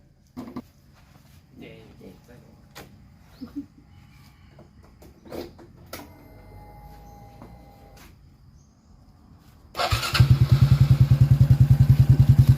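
A motorcycle with a newly fitted aftermarket exhaust pipe sits quiet amid scattered clanks and handling noises, then fires up near the end into a loud, rapid, pulsing idle with a throaty rumble.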